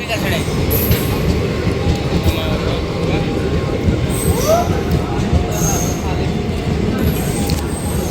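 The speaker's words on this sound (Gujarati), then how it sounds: "ધોળા ટુ ઓખાની ટ્રેન આવી ગઈ છે" The Dhola to Okha passenger train rolls into a station, a continuous loud rumble of wheels on rails with intermittent high squeals from the wheels, while people speak over it.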